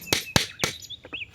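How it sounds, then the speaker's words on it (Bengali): Small birds by the Shib River give a few short, sharp chirps and a couple of thin whistled calls, close and clear, with quiet gaps between them. "হালকা বাতাস আর পাখির ডাক"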